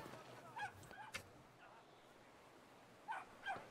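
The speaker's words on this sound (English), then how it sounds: "Well, there's a dog." Brief dog barks from the video game Brothers: A Tale of Two Sons, a few short yips in two pairs, moderately faint over quiet game ambience.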